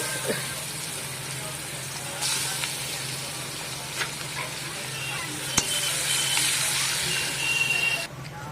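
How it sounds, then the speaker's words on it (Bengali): Onions fry in the hot oil left from frying salted fish, a loud continuous hiss and crackle with a few stirring knocks, close up. "ওই তেলেতেই পেঁয়াজ দিয়ে দিচ্ছি।"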